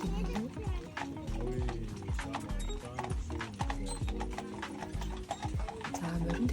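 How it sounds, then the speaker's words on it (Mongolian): Hooves of a horse-drawn carriage clip-clop steadily on the road near Neuschwanstein Castle, a brisk close rhythm with faint mechanical rattling and a busy crowd in the background. "Би одоо энд морин тэргийн хүлээгээд зогсож байна."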